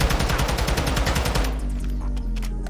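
An assault rifle fires fast automatic bursts in the Modern Warfare 2 video game, loud and punchy for over a second before the shots thin out into scattered bursts.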